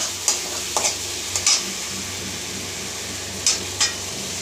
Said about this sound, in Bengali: এর মধ্যে দিয়ে দেবো এবার জল।